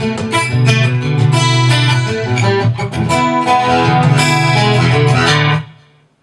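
Acoustic guitar plays a passage from a song up to tempo, dense strummed and picked chords ringing continuously and loudly for about five seconds before the strings are damped to silence.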